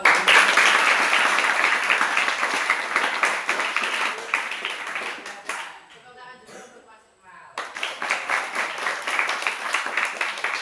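Classroom applause from students breaks out loud and dense, fades into a near-silent pause with faint murmuring, then resumes as steady clapping to the end.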